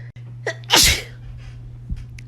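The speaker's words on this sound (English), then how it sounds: "I literally cannot stop sneezing" A single sharp human sneeze, preceded by a short breathy inhale and followed by quiet breathing over a faint steady hum.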